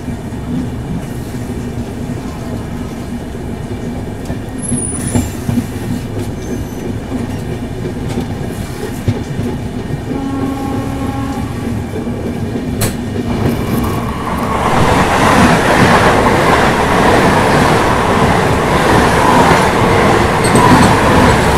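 A train at Nabadwip Dham railway station rumbles with steady rail noise and occasional squeals and clicks, growing louder and broader toward the end as the cars roll by nearby.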